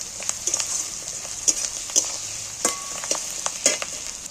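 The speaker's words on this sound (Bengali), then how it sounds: "1 চামচের যে রসুন বাটা রেখেছি সেইটা একটু পেঁয়াজের সঙ্গে নেড়ে দিই" Onions and garlic paste frying in a pan for a jackfruit curry, with a steady sizzle and repeated scraping strokes of a stirring spoon, close and clear.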